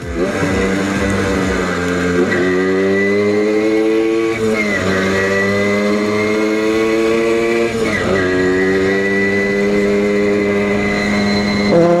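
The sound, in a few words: motorcycle engine running while riding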